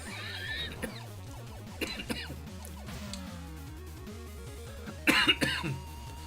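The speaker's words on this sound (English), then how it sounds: "I'm coughing a lot today." A burst of harsh coughing erupts near the end, a couple of rough hacks over a quiet background of low music and faint clicks from video gameplay.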